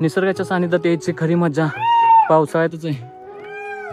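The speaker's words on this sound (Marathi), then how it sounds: "बघा मोरांचा किलबिलाट पण आपल्याला ऐकायला येतोय" Someone talks while a peacock's shrill, meow-like call rises over his voice on a hillside, followed by another wailing call as he pauses.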